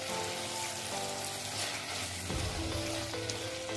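Pickles with black pepper sautéing in a pan give off a loud, dense, continuous sizzle, with some faint tonal kitchen sounds in the background and no speech.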